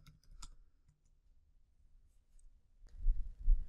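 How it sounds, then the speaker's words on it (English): A few taps on a computer keyboard while typing a command, sparse quiet clicks, then a short cluster of louder keystrokes near the end. "Now we'll type execute to start our listener."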